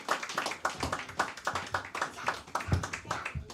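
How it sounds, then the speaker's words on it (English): A small group at a class gives a brief round of hand claps for a fellow member, a quick run of irregular, close claps with no talking. "get his brother a hand clap real quick"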